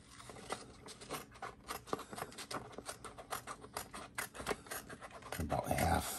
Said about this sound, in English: Let's cut this white part off.